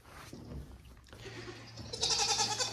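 Goats bleat on a farm, a few calls close by over a low steady hum, with a louder, longer bleat at the end.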